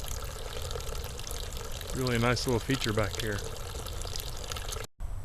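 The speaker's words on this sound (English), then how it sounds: "there's the solar-powered water fountain that I installed a while back. That pump is still going well" A solar-powered garden water fountain trickles and splashes steadily in a backyard, a soft continuous pour running under a man's nearby speech.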